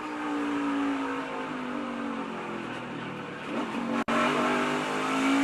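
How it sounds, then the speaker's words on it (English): An Xfinity Series race car at Iowa Speedway drones, drops briefly as it downshifts into third gear, then climbs again as the car pulls away. "you hear Cole Custer downshift into 3rd and then drive away"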